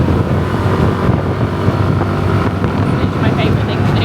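A motorbike taxi ride in Bali, with steady, loud engine drone and heavy wind buffeting the microphone throughout.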